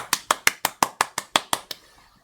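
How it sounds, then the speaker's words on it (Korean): Nine sharp hand claps in a steady, quick rhythm, close and fairly loud, each cut off cleanly, with a brief quiet tail after the last one. "박수!"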